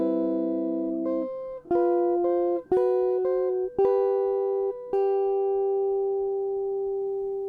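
Guitar melody phrase in simple fingerpicked single notes, about eight plucks in an unhurried rhythm, the final note sustaining and decaying.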